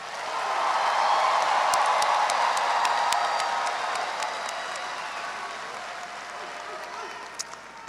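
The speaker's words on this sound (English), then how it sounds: "please join me in a thunderous round of applause for all of our graduates" A large crowd at Albany State University's fall commencement applauds its graduates, a broad roar of clapping and cheering that swells, holds, then slowly tapers, with scattered whistles on top.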